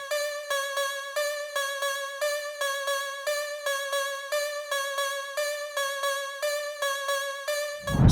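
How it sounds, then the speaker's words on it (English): A retro-styled Citrus block synth lead plays a bright melody in quick, evenly pulsed staccato notes that repeat in a steady looping pattern throughout. The sound is moderately quiet, and a low thump comes in at the very end. "And then they added this like lead melody right here."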